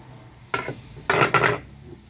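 Offal stir-fried with onion and bell pepper, heard as a few quick clanks and scrapes of a utensil against the pan, close and brief.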